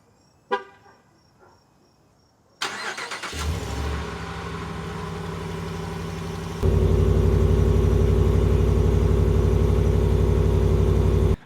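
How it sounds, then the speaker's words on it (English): A Ram 1500 with the 5.7 Hemi on its stock exhaust: a couple of short beeps, then the engine cranks and starts, idles, and settles into a louder, steady low drone. "I'm going to show you guys what the stock exhaust on the Ram sounds like right now"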